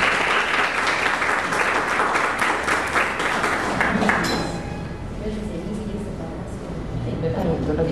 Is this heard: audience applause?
yes